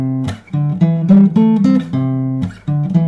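Part two of a riff played on guitar, with a run of clear plucked single notes and short phrases in a steady rhythm, loud and close, without any voice.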